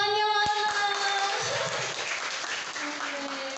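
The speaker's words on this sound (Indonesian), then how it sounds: "Tepuk tangannya mana?" Audience at an education seminar breaks into applause; a brief voice comes first, then a broad, sustained wash of many people clapping that continues to the end.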